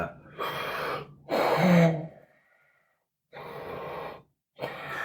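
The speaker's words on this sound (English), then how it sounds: "When you hear the heavy breathing" Slow, heavy breaths, each a loud rasping inhale or exhale, separated by short silences, close and alone, from the film The Batman.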